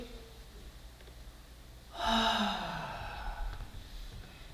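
A deep inhalation taken as a breathing exercise during a karate warm-up, after a set of push-ups, rising sharply at about two seconds and then trailing off as a long, airy breath, close to the microphone with no talking.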